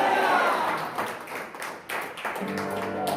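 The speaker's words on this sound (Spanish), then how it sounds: "Denle un aplauso al Señor." A church congregation claps in praise, a dense burst of hand claps that fades and then returns more loosely, with voices mixed in.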